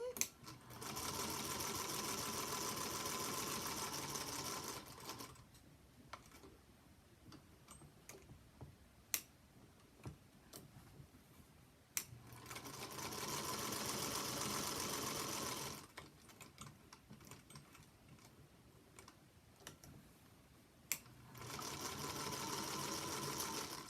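Close sewing machine runs in three long steady bursts separated by quiet gaps with small ticks and clicks, stitching a quilt block in the ditch.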